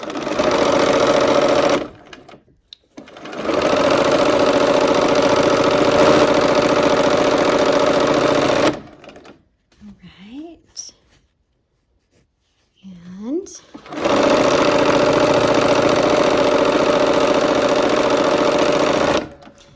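A sewing machine stitches barn quilt block seams in long, loud, steady runs with brief pauses between them, close by, while a person speaks quietly in the gaps.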